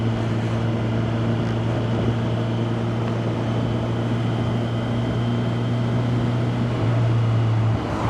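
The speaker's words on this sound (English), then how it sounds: "quick shifter and blipper on this as well are absolutely amazing" Kawasaki Versys 1100 SE motorcycle engine with quick shifter and blipper, a steady droning hum with wind rush throughout, a brief rise in pitch near the end as revs change.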